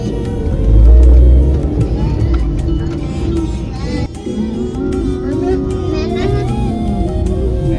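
A car rolls into a parking lot at Mother's Hut in Krishnanagar with a low, steady engine and road rumble. A heavy thump comes near the start, and people talk over the drive throughout.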